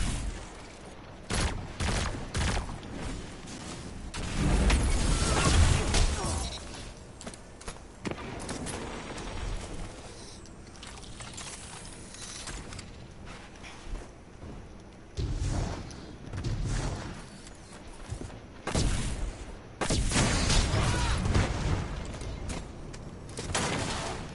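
Video game combat with rocket launcher blasts and rapid gunfire, bursts of explosions and shooting clustered in loud waves separated by quieter stretches of mechanical clatter.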